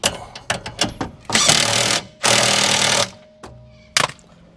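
A power tool, likely an impact wrench, tightens a nut on an R33 Skyline's suspension in several loud, close bursts of hammering, two of them sustained for about a second each, with short taps between.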